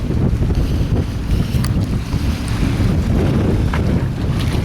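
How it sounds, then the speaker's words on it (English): Strong wind buffets the microphone at a boat launch beside open water, a loud, constant roar with gusty rumble and no voices. "This wind is blowing way harder now than earlier."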